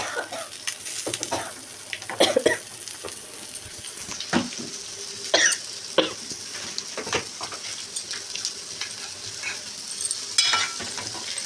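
Spice tempering sizzles in a pan while fish curry is being made, a steady close frying hiss broken by sharp crackles, pops and clinks of stirring throughout.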